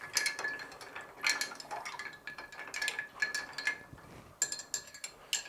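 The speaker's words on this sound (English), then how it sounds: "Once you've done that, you want to stir." Ice cubes clink and rattle against a glass as a cocktail is stirred with a spoon, producing repeated bursts of bright chinking in an irregular rhythm, close and fairly clear.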